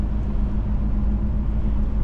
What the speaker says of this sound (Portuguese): No momento que eu acionei o freio motor aqui